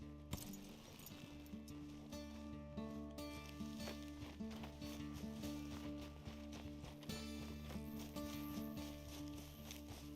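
Horse hooves clip-clopping steadily in the video game Hogwarts Legacy, repeated rhythmic steps under a dense, continuous game soundscape with no talking.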